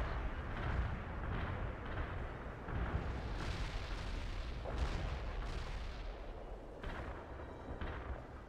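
An artillery barrage in the game World in Conflict, rumbling explosions rolling one into another in a dense, continuous wash, fairly faint overall with no talk.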